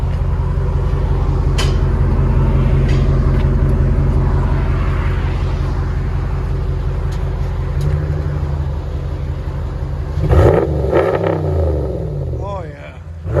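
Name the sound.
RAM 1500 5.7L HEMI engine revving with Flowmaster muffler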